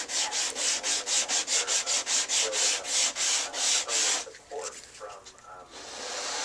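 A sanding block works the paint on a bicycle frame up to a line of masking tape, giving a steady run of rhythmic rasping strokes close by, then scattered lighter rubs and faint handling noise.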